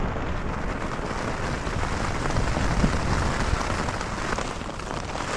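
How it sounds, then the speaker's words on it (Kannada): Rain falls steadily at a campsite on a solo Himalayan trek to Kheerganga, making a dense, even patter on nearby surfaces that stays constant throughout. "ಬೆಳಿಗ್ಗೆ 6 ಗಂಟೆಗೆ ಮಳೆ ಶುರು ಆಯಿತು."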